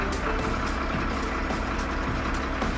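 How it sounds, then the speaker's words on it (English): A garbage truck drives along the road, its engine a steady, loud broadband rumble that runs unbroken from start to finish, with no voices over it. "garbage truck is going to work."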